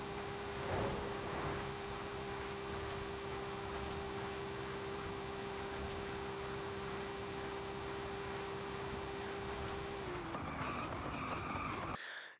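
A 1953 Chevrolet Corvette barn find in Forza driving at speed, a steady sustained engine drone with road and wind noise that shifts pitch near the end before cutting off.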